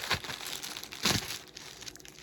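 Plastic ink sample package being cut open during an unboxing, heard as two short crinkling, snipping bursts close up, the second slightly louder, over a quiet room.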